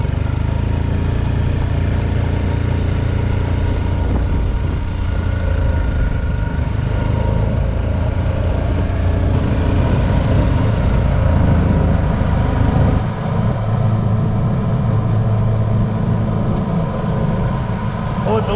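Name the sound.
junkyard golf cart engine on a top speed run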